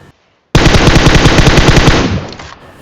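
Automatic gunfire from a mobile battle royale game rips out in one sustained rapid burst of about a second and a half, loud and close, trailing off into a short decay after a brief silence.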